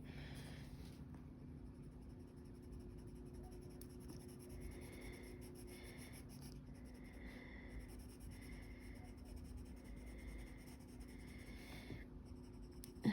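Prussian blue colored pencil shading on coloring book paper, a soft continuous scratchy scribble that runs steadily close up with no talking.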